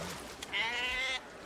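A sheep being washed in seawater gives one drawn-out, wavering bleat lasting about half a second, clear and fairly close over a quiet outdoor background, with no talking.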